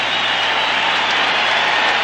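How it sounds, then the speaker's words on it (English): A full baseball stadium crowd stands applauding Mark McGwire's home run in 1998, a loud, continuous wash of clapping and cheering. "Everybody is still standing and applauding Mark McGwire,"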